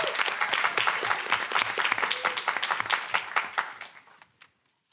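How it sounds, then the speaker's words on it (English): A crowd at the MIT $100K Entrepreneurship pitch competition claps loudly to welcome a startup team to the stage. The applause is brisk and sustained, then thins out and stops abruptly near the end. "Let's welcome Alcovet with a big round of applause."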